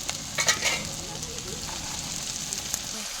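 Spices, dried chilli powder and garam masala powder, fry in a pan with a continuous close sizzle, a few clattering stirs near the start, then steady hiss.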